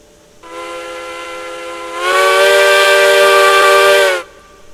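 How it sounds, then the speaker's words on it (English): A steam locomotive whistle in the train simulation game Railroads Online blows one sustained chord of tones that swells louder midway and then cuts off cleanly, loud and close with a hissy edge, with no talking. "So they got some new whistles too."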